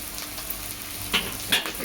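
Garlic sizzles softly in a pan, frying until reddish for kadi pakoda, with a steady crackle and two louder bursts of stirring or spattering.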